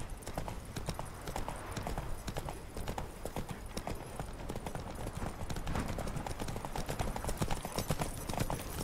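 Rapid hoofbeats of Roach, the horse in the video game The Witcher 3, gallop in a steady clip-clop rhythm, loud and continuous, with no voices.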